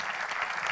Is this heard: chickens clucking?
no